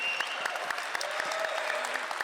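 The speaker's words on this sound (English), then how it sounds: "how about a round of applause for Athletic Director John Weber?" At a Colorado State men's basketball introductory press conference, a crowd gives a round of applause, a steady patter of clapping at moderate loudness, with a few sharper claps standing out at a fairly even rhythm.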